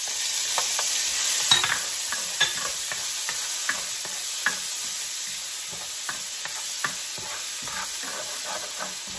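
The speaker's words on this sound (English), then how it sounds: "Let's start saute the garlic." Chopped garlic sizzles in hot oil in a pan for a Bicol Express dish, with a steady frying hiss and repeated sharp scrapes of a utensil stirring throughout, close and alone with no talking.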